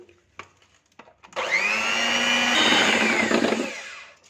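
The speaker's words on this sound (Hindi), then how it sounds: "2 मिनट तक एग बीटर से अच्छी तरह से इसे बीट कर लिया है।" An electric egg beater whirs steadily through cake batter with icing sugar for a vanilla sponge, a loud continuous motor drone starting after a second of quiet with soft clinks before it.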